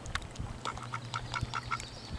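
Several ducks quack in quick succession outdoors on a hiking trail, a run of short nasal calls at close range over light background rustle.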